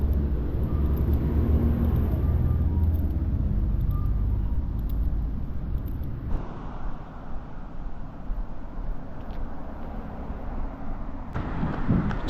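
Inside a car on the road, a steady low rumble of engine and tyres continues throughout, shifting in tone partway as the road surface changes, with no voices.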